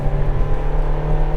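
A Hyundai i30 1.6 VVT engine revs hard after a downshift into second gear, a loud steady drone from inside the car with no talk.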